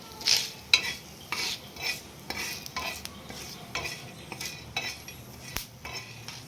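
Bay leaves, cloves and peppercorns are being roasted in a little oil on a hot griddle for Maharashtrian masul vadi. A soft sizzle runs under repeated scraping and clinking strokes of a metal spatula, close and steady, with no speech.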